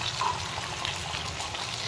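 Street-style veg chowmein stir-fries in a pan with chilli sauce and tomato sauce, producing a steady, even sizzle and crackle close up with light stirring. No one talks.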